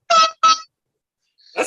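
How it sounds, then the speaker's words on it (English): Two short, loud air horn blasts in quick succession, then a brief pause before a third blast starts abruptly. "I'll give you an air horn."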